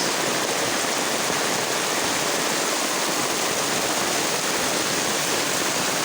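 Heavy rain pouring down outdoors along a dark road, a dense, steady rushing wash of noise that stays constant and fairly loud from start to finish, with no talk.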